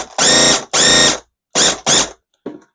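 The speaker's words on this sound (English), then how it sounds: "That seems to be spraying lovely" A paint sprayer spraying unthinned paint on a small ceiling hisses and buzzes in four short, loud bursts with brief gaps between them, followed by a quick faint sputter.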